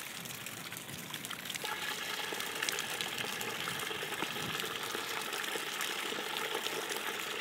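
Water gushes and trickles through an exterior bell siphon as it gulps and starts draining, a steady, faint, hissing flow with no voices.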